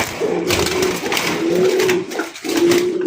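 A pigeon coos close by in a steady, throaty series of drawn-out calls, repeated three or four times with brief pauses.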